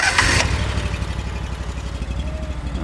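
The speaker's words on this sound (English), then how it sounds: "It's got a Honda gas engine on it." A Honda gas engine powers a brush-clearing machine, running steadily at a low, even drone throughout, with a brief louder burst of noise at the start.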